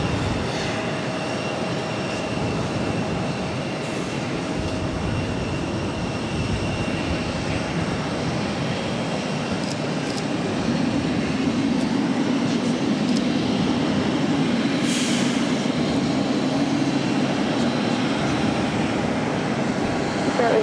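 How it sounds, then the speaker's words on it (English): A jet airliner on a go-around at Boston Logan, climbing away to 3,000 feet: a steady, broad engine roar lasting the whole stretch, building slightly toward the end, with faint talk underneath. "We do have a go-around happening"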